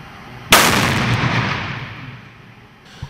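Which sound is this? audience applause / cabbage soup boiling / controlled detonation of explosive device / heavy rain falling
controlled detonation of explosive device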